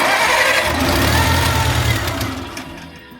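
A 1950s Farmall tractor engine churns loud and steady up close, a rough low mechanical drone that holds for a few seconds and then fades away near the end.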